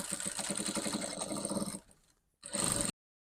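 A sewing machine stitches a shirt dress seam, a rapid close mechanical whirr for under two seconds, a brief pause, then a short second burst, no talking.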